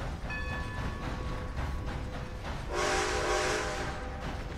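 A train in the Red Dead Redemption 2 video game rumbles along steadily with sustained tonal ringing and whistle-like tones over the rolling noise, loud and continuous, with no talking.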